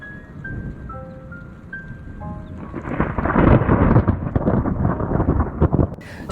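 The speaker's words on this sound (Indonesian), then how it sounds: "Suara petir bergelegur" A loud, deep rumble of thunder rolls in and builds over falling rain, with a faint tonal melody fading out at the start.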